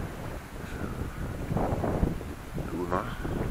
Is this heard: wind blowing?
yes